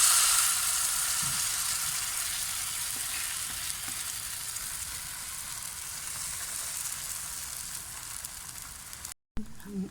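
Roti cooking on a greased tawa over low heat gives a steady, soft broadband sizzle that holds nearly unchanged throughout, with a few faint low clicks and a brief dropout near the end.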